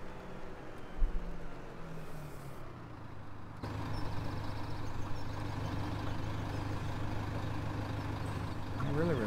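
A tractor engine idles and runs in the farming game Farming Simulator 17, a steady low diesel drone that grows fuller and louder partway through, with someone talking over it.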